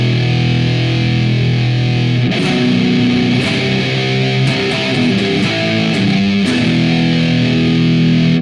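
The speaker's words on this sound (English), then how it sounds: "We can also get a lot of distortion with a distortion pedal." Heavy metal tone from an electric guitar driven through a distortion pedal, thick sustained chords with sharp new strikes, loud and saturated throughout with no talking.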